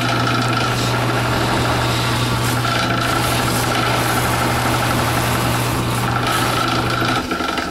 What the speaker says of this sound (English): But this is my buffer.